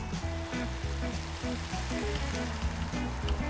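Meat sizzling and frying in a pan in the Cooking Simulator video game, a steady loud crackling hiss running throughout, with faint game music tones underneath.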